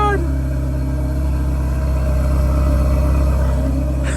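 Deep, steady V8 exhaust rumble from a 2020 Ferrari Portofino, loud and close, holding a constant idle-like drone for the whole stretch with no pauses.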